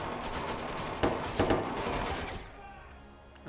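Gunfire rings out in the video game Watch Dogs 2, a dense run of shots with two sharper bursts in the middle, then a fading tail of quieter crackle.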